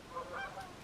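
Several geese honk in flight over a frozen lake in snowy weather, a short burst of overlapping nasal calls, moderately distant and sustained, with no talking.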